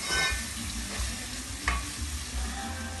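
Steady crackling sizzle of tomatoes and spices frying in oil, with a few soft clinks and stirring scrapes partway through; no talking.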